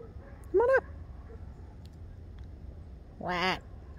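Ducks near a dock quack twice, a short nasal call early on and a louder, longer burst of quacks later, over a quiet outdoor background.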